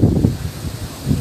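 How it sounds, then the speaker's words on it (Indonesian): Strong wind gusts across a tsunami-battered beach in Banten, where a wrecked concert stage area lies under drizzle. The wind makes a loud, rumbling buffet, swelling at the start and again near the end, with no voices. "kondisi saat ini gerimis dan angin kencang"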